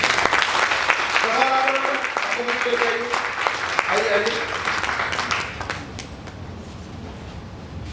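Audience applause at a training session, a broad wash of clapping that fades after about five seconds, with someone speaking over it and calling people forward.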